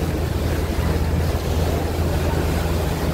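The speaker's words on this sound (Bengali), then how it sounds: "আমরা রাজারহাট সি লঞ্চটিকে ওভারটেক করে এগিয়ে যাচ্ছি।" A passenger launch on a river overtakes a slower launch bound for a picnic trip, its steady engine drone and rushing water forming a constant loud wash with wind buffeting the microphone.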